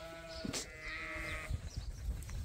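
Sheep on a farm give a wavering, harmonic bleat over steady background noise, with brief thumps and rustles around it.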